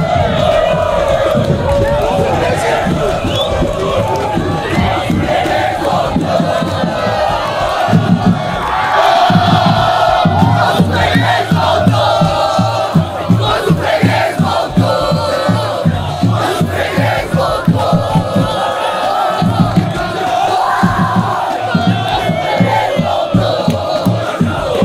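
Football supporters at an amateur neighbourhood match in Brazil chant and cheer loudly and continuously, a dense crowd roar with rhythmic clapping and drumming-like beats throughout.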